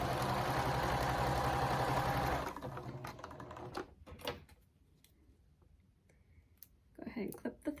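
A home sewing machine runs steadily, stitching pieces of fabric together for a reversible microwave bowl cozy, loud and continuous for about two seconds before stopping, followed by quieter clicks and handling noises.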